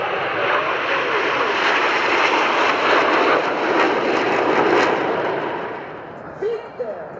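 Frecce Tricolori aerobatic jets roar past at an airshow, a broad, loud engine rumble swelling and holding before fading toward the end, with a brief thump near the close.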